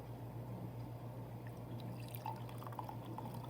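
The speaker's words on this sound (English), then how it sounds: "take it off the stove, grab it, bring it over here, and pour it into my vinegar" Hot liquid taken off the stove is poured into vinegar, giving a steady close trickle and dripping over a constant low hum.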